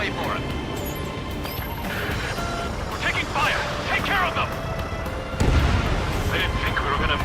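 Rumbling bursts of gunfire and explosions fill an aerial combat scene in the jet fighter game Ace Combat 7: Skies Unknown, continuous and dense, with a heavier impact near the end and radio chatter running over it.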